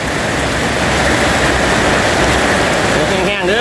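Heavy rain pours steadily, a dense, loud hiss that fills the whole clip, with a brief voice-like sound near the end.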